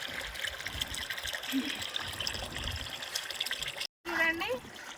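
Homemade liquid fertilizer water poured onto potted plants, a steady close trickling and splashing flow running beneath a person talking, broken by a brief gap near the end.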